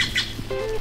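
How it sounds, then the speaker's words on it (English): Birds chirp outdoors at a campsite, a few quick high tweets and a short squawk close by over a steady low background hum, with no talk. "I was trying to get the birds chirp"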